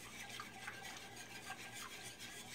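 A spoon works through a keto-friendly, gluten-free Alfredo cream sauce in a pot, making faint, continuous scraping and swishing with soft rhythmic pulses of stirring, quiet and with no voices.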